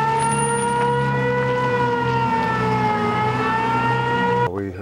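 Emergency sirens wail loud and steady during a nighttime wildfire evacuation at Lame Deer on the Northern Cheyenne Reservation, holding long sustained tones before cutting off abruptly near the end.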